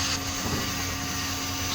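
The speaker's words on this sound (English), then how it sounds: "my right hand is holding the grinder machine just to keep in place the rock" An angle grinder cuts into a very hard meteorite stone with an ordinary metal cutting disk, giving a loud, steady, unbroken grinding whine that holds level for the whole stretch.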